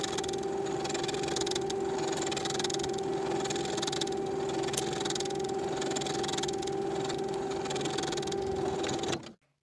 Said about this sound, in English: Sew the edges of the pocket together with a 5/8 inch seam allowance